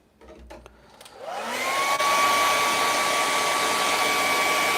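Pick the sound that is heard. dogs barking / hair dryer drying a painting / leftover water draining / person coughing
hair dryer drying a painting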